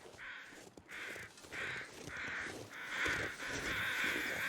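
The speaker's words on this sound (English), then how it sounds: "I believe I saw some crows circling over here." Crows in The Long Dark give a run of six or seven evenly spaced harsh caws, fairly close and loud against a soft windy background; no voices.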